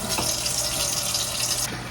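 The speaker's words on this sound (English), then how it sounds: "And I fill up the water level till it's right above the lids." Water gushes steadily from a tap into a canning pot packed with jars, filling it to just above the lids. The close, continuous splashing rush holds even for two seconds, then shifts briefly near the end.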